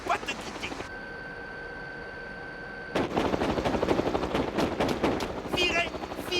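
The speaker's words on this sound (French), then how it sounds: "Un hélicoptère." A helicopter in an animated series approaches, its steady rotor hum giving way to bursts of rapid machine-gun fire and loud gunshots, with tense character voices mixed into the loud action.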